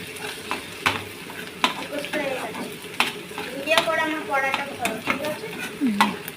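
Potatoes frying in a pan with salt added are stirred repeatedly, a spatula scraping and clinking in quick irregular strokes over a soft steady sizzle, close and moderately loud.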